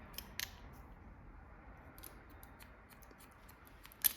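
Scissors snipping hair during a pixie cut, a few crisp close snips in quick succession near the start and scattered lighter clicks after, ending on one sharp cut, in a quiet room.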